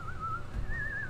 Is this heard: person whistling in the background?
yes